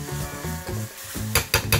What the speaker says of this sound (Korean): 참치 통조림에 있는 기름을 냄비에 넣고 대파를 넣고 볶아줍니다.